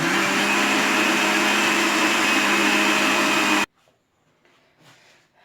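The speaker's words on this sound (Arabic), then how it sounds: "غادي نديرهم ونعاود نضرب الخلاط." A blender roars loudly and steadily for several seconds, then cuts off abruptly, leaving near silence with faint rustling.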